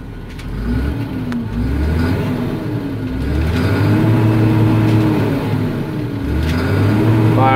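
A 2012 Massey Ferguson 8650 Dyna VT tractor with an 8.4-litre engine revs up close and loud, its pitch climbing and falling in several waves over a steady idle, with no talk.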